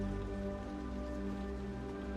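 Steady rain falls on a surface in a dense, even patter that holds constant throughout with no voices.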